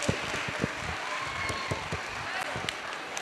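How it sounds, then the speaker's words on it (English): Scattered applause from a school show audience, with a few sharp individual claps standing out over a soft crowd murmur, moderately close and fairly quiet. "A big round of applause."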